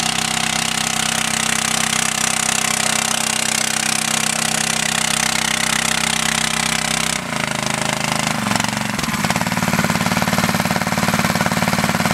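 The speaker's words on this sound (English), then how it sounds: "Always have to have water in the impeller when the engine's running to keep it cool." A portable emergency fire pump engine drawing water from a tank runs loud and steady with a rattling, hammering drone; partway through its pitch and load shift abruptly as the setup is changed, then it keeps running.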